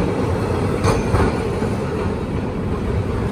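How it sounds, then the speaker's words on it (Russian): A tram on route 10 rolls along a Milan street with a steady close rumble of wheels and motor, a couple of brief brighter rail clicks showing near the start, and no voices. "Трамвай проехал, но он пустой, как было видно."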